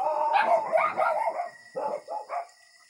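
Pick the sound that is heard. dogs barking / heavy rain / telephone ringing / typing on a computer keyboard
dogs barking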